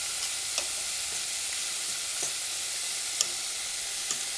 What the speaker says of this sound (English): use your fork and gather all the seasoning in a little corner and then stir in your rice properly